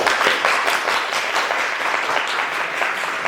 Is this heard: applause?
yes